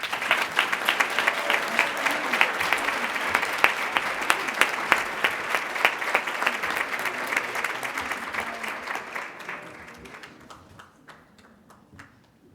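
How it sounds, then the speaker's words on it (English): Audience applause at a New York State PTA convention banquet greeting newly installed officers, a dense steady clapping that fades out toward the end. "Let's give them one more round of applause."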